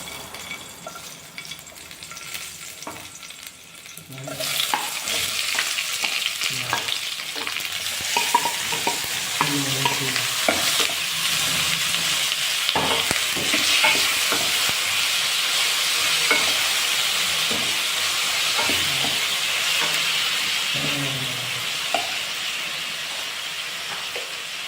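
Egg and garlic fry in a hot pan, a sudden loud sizzle erupting after a few quiet seconds and then hissing steadily, broken by occasional scraping and stirring taps.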